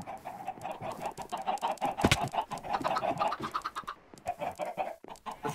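Chickens in a Minecraft-style blocky video game keep up a dense run of clucks and squawks, close and lively, with one sharp louder squawk partway through and no voices.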